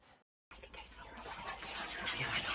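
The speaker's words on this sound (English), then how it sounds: "At the door, she heard whispering." Whispering from inside the house in the video game What Remains of Edith Finch: after a brief silence, hushed breathy whispered voices rise and build steadily, close and intimate.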